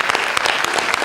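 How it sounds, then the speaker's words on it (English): An auditorium audience claps loudly and densely for a short burst, a steady wash of overlapping hand claps with no voices over it. "Give a big clap for her because,"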